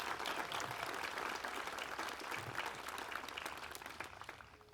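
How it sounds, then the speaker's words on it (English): An outdoor concert audience at Staring Lake applauds special guests, steady broad clapping that slowly thins toward the end. "Please join me in a round of applause for tonight's special guests."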